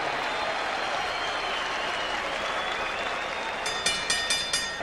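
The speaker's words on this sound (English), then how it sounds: "a round of applause and a wish for speedy recovery to the Paz." A boxing arena crowd applauds in a broad, continuous wash of clapping and crowd noise. A few sharp, bright accents cut through near the end.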